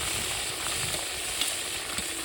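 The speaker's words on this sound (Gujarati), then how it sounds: "મરચો નાખી દીધો." Chili hitting hot oil in a pan for Gujarati village-style undhiyu, a steady sizzle and crackle of frying that stays even throughout, with a few faint stirring taps.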